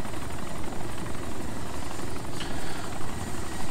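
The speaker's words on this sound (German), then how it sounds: "Der Vietnam-Heli da ist ja bewaffnet, stimmt" Armed Vietnam-era helicopter in DayZ Epoch, a steady loud rotor drone and engine roar running throughout without pause.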